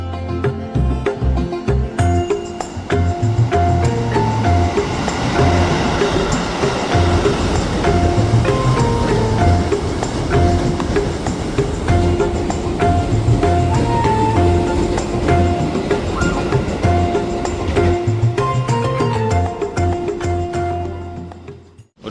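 An extra Gambir–Jogja passenger train pulls into a station at night, its loud rumble and rhythmic wheel clatter running steadily close by, with tonal squeals and hums over the top before it fades out.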